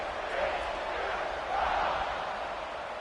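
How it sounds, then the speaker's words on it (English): A football stadium crowd buzzes after a score at a TTech vs TCU game, a dense, steady roar of many voices filling the space, swelling slightly midway, with an announcer talking over it. "this crowd is buzzing after that last score"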